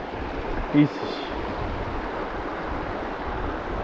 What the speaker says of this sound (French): c'est le ruisseau qui est juste devant nous là